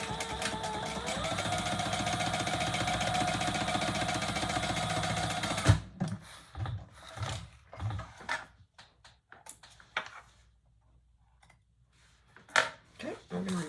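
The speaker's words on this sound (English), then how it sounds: "fold that over with the seam going down towards the bottom and top stitch on the bottom" A sewing machine topstitches the bottom seam of a Victory Bowler handbag, a steady close mechanical whir for about six seconds, then stops, followed by handling clicks and rustles of fabric.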